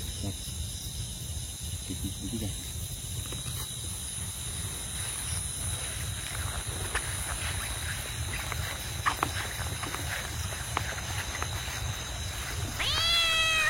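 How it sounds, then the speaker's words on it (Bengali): A cat meows faintly outdoors at night in a lychee orchard amid wetland, a short call near the end over a constant drone of crickets and insects. "এই পাশ থেকে কিন্তু বিড়ালের আওয়াজ আসলো"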